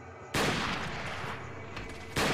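Gunfire in Resident Evil 4 with the Life In Hell mod, a loud close blast followed by a sustained burst of shots, then another sharp report at the end, with no talking.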